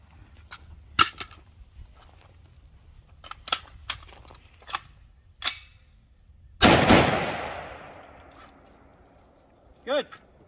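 AR-15 rifle firing during a durability torture test, several sharp, separate gunshots spaced irregularly, then one much louder blast with a long ringing decay, and a final short metallic report; outdoor setting, loud and close.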